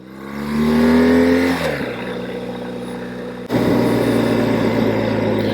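A motorcycle engine while riding, a loud close drone that climbs in pitch, drops as the gear changes, then settles into a steady roar with a sharp jump in level near the end, no talk.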